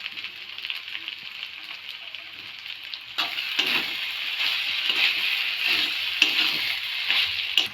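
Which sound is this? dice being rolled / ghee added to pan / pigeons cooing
ghee added to pan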